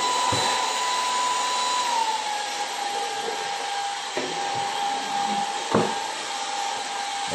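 A Kissof S17 cordless stick vacuum cleaner runs steadily with a high whine, dipping slightly in pitch partway through, with a few short knocks and bumps as it moves.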